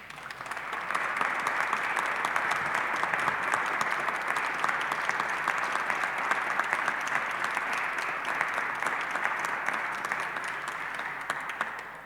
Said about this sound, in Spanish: para quienes pedimos un fuerte aplauso